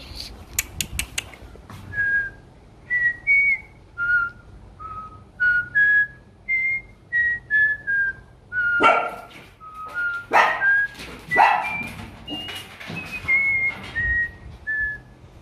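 A person whistles repeated short melodic notes to call a group of Rottweiler dogs, the whistles coming in a quick steady series while the dogs answer with several loud barks and some whimpering close by.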